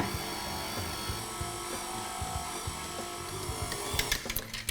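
An electric mixer on its lowest speed churns dry ingredients into thick chocolate brownie batter: a steady close whir with a regular, slow rhythmic thumping from the beaters, ending in a short burst of clattering.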